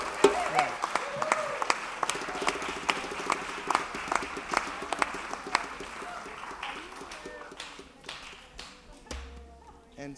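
An audience at a Cosmic Mass ceremony claps in a dense, sustained round of applause that stays fairly close, then tapers and thins toward the end.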